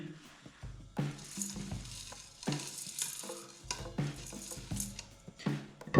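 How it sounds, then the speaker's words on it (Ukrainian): Plain non-iodized salt is sprinkled into the bottom of a pot in several quick, grainy rustling bursts, each close and crisp, separated by brief pauses. "Посипаємо на низ сіль."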